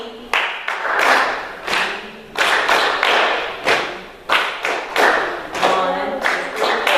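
A group in a music therapy session claps hands rhythmically in short bursts of repeated claps, loud and close, with brief pauses between phrases and a little vocal chanting mixed in.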